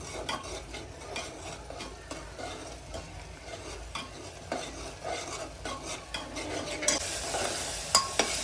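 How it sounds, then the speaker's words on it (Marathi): Masala with curd for rajma rice sizzles in a pan over a high flame while a spoon stirs and scrapes steadily, a soft continuous fry with rhythmic scraping that grows louder toward the end, no talking. "त्याला पण मोठ्या गॅसवर चांगलं आपण परतून घ्यायचे."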